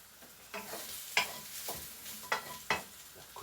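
A cooking pot gets a quick stir, with several distinct scraping strokes in an uneven rhythm over a faint background sizzle, close and quiet, with no voices.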